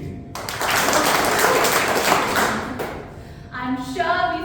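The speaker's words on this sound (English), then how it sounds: "Give me 5 claps if you remember your first mentoring" Audience at a Toastmasters anniversary meeting claps together in a dense, sustained burst of applause lasting a few seconds, then fades as a voice begins speaking.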